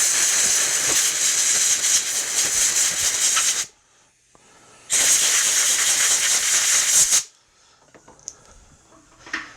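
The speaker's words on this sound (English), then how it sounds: "Let's give that a quick shot with the compressed air." Two long, loud bursts of compressed air blast across a Stihl air filter in a repair shop, each roughly three seconds of broad hissing rush, separated and followed by near silence.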